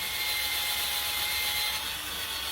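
A drill spinning a wire wheel brush grinds continuously against an old metal control arm, giving a steady, dense, high-pitched whirring hiss that barely changes across the stretch.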